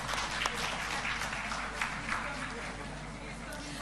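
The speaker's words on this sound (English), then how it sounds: "Please give a huge round of applause." Audience applause at an international health conference welcoming a speaker, a faint, steady wash of clapping heard from a distance through a room system, with a low hum underneath.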